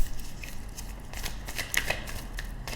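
Tarot cards are shuffled for a reading in a series of soft, papery riffles and flicks, fairly quiet and close, with no voices.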